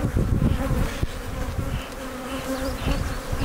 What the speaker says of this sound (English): Take that smoker and just puff it across the top and watch the reaction that the bees do.